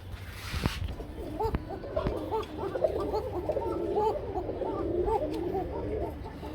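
Several pigeons coo softly and continuously close by, their throaty murmurs overlapping over a low background hum.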